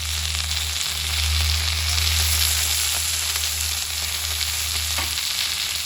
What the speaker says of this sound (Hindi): अभी मैं इसमें ऐड करूँगी 3 कटे हुए टमाटर